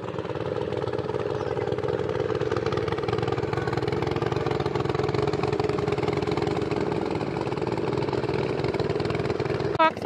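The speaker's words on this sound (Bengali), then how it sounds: "ওই যে ওইদিকে ট্রলার আসতেছে" A trawler boat engine drones steadily near Cox's Bazar, a continuous low mechanical rumble running unchanged at close range.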